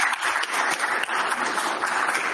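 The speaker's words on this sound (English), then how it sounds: "I think we can applaud you if you can hear us." A conference audience applauds after a presentation, a brief dense burst of clapping at a steady level with no talk over it.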